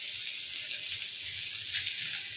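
Ginger frying in a pan gives a steady, close sizzle that holds at an even level throughout, with no talk.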